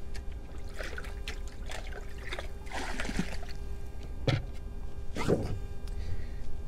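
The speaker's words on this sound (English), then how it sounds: "I'm going to get a little seawater in my bucket" Seawater scooped into a bucket by hand at the shore, with soft trickling and dribbling water over steady outdoor background noise, plus two short splashy surges near the end.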